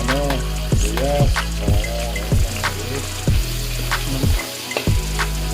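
Onions sizzle as they go into a hot frying pan, making a steady bright hiss that runs throughout, with recurring soft rhythmic thumps and tones beneath it and no talk.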